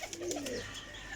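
A breeder pigeon gives one short, soft coo, faint and close, with no other sounds around it.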